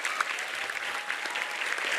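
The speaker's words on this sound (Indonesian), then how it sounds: "Tepuk tangan buat seluruh santri." A large audience at an Islamic youth gathering applauds the santri, a dense, steady wash of clapping from many hands throughout.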